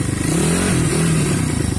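A mini cross dirt bike engine runs hot and loud at close range, a rough, throbbing idle with a slight rise in revs partway through and a metallic clatter underneath.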